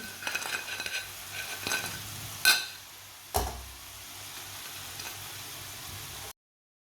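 Potato chips frying in oil make a soft, steady bubbling sizzle, interrupted by two sharp metallic clinks of a utensil against the pan before the sound cuts out.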